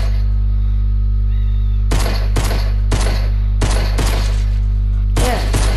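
Gunshots in Fortnite ring out in several sharp, loud bursts, some single and some in quick pairs, over a steady low electrical hum.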